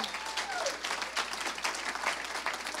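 A church congregation claps for the Lord during a sermon, a dense, steady wash of applause from many hands filling the room throughout, with no speech over it.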